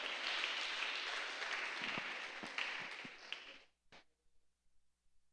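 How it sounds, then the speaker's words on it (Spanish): Inside a church, a congregation claps as an offering of applause, a dense, lively wash of many hands that lasts several seconds and then stops abruptly, leaving a few scattered claps and thumps. "dale una ofrenda de palmas al Rey de Reyes"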